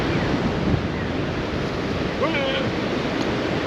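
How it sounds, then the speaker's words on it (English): Ocean surf rolls onto a beach in a constant broad roar with wind buffeting the microphone, and a brief high call rises over it partway through. "Watch the waves."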